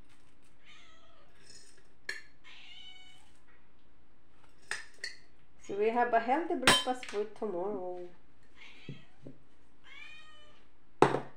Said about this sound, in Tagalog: ang aking pusang maingay